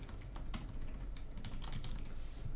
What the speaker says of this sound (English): type out the name Fallon, and then I went up to font, typed in